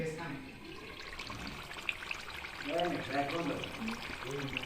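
Liquid is poured into frying onions, giving a gurgling, splashing rush over a background sizzle while voices talk nearby.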